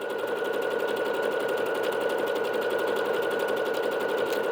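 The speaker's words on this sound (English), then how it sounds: "we're going to go ahead and start stitching 117" A Bernette B-77 sewing machine stitches at its highest speed setting, giving a steady, fast, continuous whirring hum with a rapid needle rhythm, close and loud, with no voices.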